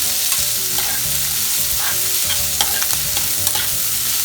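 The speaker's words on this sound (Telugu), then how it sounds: "వేసేసి మొత్తం ఇలా కొంచెం ఫ్రై అయ్యే వరకు ఇలా వేస్తూ ఉండాలండి." Grated ginger sizzles steadily in a pan for flattened rice upma, a loud, constant frying hiss with quick scraping strokes from a stirring spoon, heard close with no voices.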